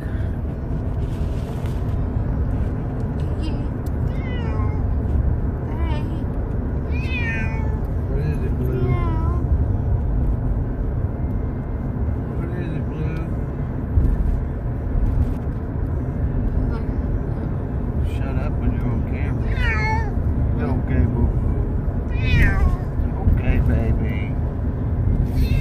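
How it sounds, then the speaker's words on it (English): A cat meows repeatedly in short, rising and falling calls, close by, scattered among people talking and a constant low rumble of background noise. "A kitty cat."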